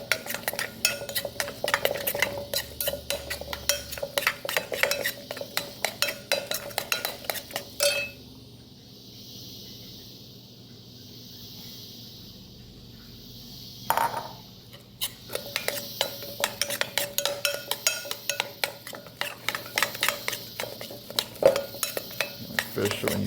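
Homemade fish and reef aquarium food being mixed, with steady clinking, scraping and stirring against a container. The stirring pauses briefly midway, then resumes just as busily.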